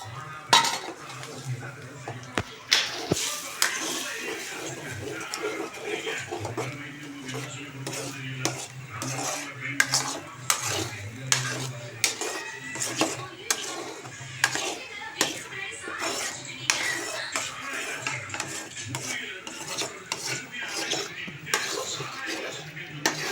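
Egg mixture for egg podimas stirred in a pan, with frequent metal spatula scrapes and clinks over a low sizzle in an irregular rhythm, close by, while someone talks at times.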